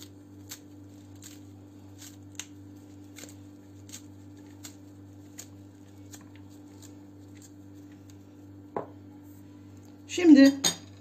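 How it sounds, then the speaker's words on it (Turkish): Knife on a cutting board chopping fresh mint for a purslane salad: faint, steady taps repeating about twice a second over a low hum, followed by a couple of louder clatters near the end. "Salatamızın taze nanesini de doğruyorum."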